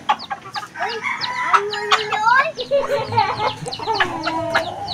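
Chickens cluck and a rooster crows repeatedly nearby, with sharp overlapping calls in an irregular rhythm. People talk quietly underneath.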